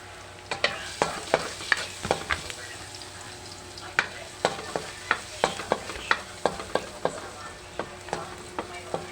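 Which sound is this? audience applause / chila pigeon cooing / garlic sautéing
garlic sautéing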